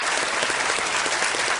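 Studio audience applause welcoming the CID team on the Kaun Banega Crorepati set, a dense, steady wash of many hands clapping at once, loud and continuous through the short stretch with no talk over it.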